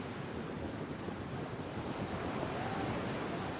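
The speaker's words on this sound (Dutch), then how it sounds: "dat het nog wel iets harder waait dan bij de start" Wind blows hard over open water during a traditional skûtsje sailing race at Starum, a steady roaring rush with wind buffeting the microphone and waves washing, no voices.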